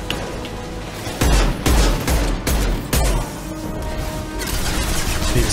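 Bursts of gunfire from a weapon in the video game Mass Effect 2, loud, rapid volleys with sharp cracks and heavier booming hits arriving in irregular clusters, with no talking.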